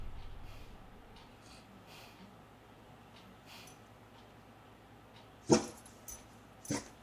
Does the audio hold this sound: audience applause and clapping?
no